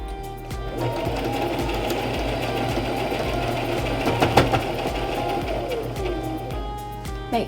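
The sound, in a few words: sewing machine stitching elastic into fabric face mask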